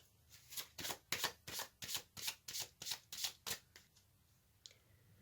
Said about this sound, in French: je vais tirer une autre carte pour avoir un autre message